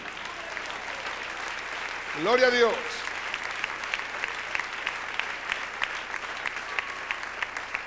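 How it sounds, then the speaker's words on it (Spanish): Steady applause from a church congregation during a sermon runs throughout, with a brief sung or shouted voice rising over it early on. "Dele un aplauso al Rey"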